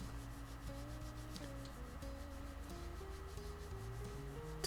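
Japanese sandpaper rubbed over a guitar body makes a soft, continuous scratchy rubbing at low level, with repeated strokes and no voices.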